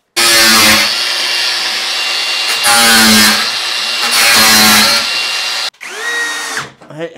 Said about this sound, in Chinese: 打掉的龙骨这里有几个钉子，这钉子现在给切了